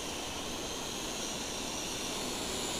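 WLtoys Q303A quadcopter drone motors fly at held throttle, a steady, high-pitched buzzing whine that stays constant and fairly close, mixed with outdoor wind.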